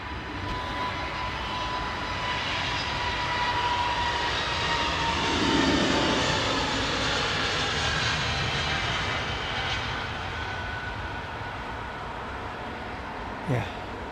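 An Airbus A320neo-family jet at London Heathrow gives a steady, broad engine roar that swells slightly in the middle and holds throughout, with a brief sharper sound near the end.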